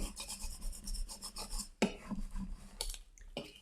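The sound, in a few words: burnishing vinyl onto Easter egg sign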